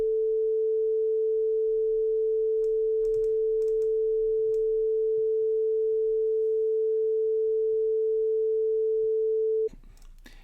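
A steady generated sine wave carrier plays from a WAV file, one loud unbroken tone lasting nearly ten seconds before cutting off, with faint clicks and room noise beneath.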